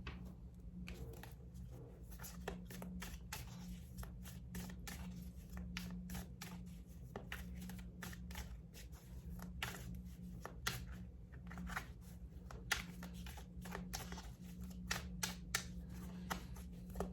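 Tarot cards being shuffled and handled, giving a steady run of soft riffling and slapping card sounds over a constant low hum, with no talking.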